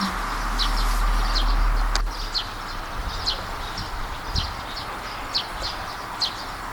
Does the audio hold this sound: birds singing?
yes